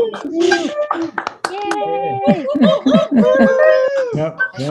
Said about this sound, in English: let's just practice a joint cheer for what we're about to hear